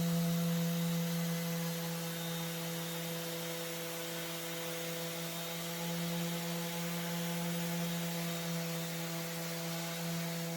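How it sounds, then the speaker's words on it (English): A steady, continuous whir with a constant hum from a Bosch orbital sander smoothing wood filler on furniture, unbroken and fairly close for the whole stretch. "using my Bosch orbital sander on the large surfaces, I started sanding all that wood filler perfectly smooth"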